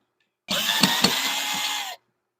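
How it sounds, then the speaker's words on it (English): A drill or power driver whirs up close for about one and a half seconds while removing screws from a woodturning lathe setup, with a couple of clicking catches in the steady buzz. "let's start removing the screws"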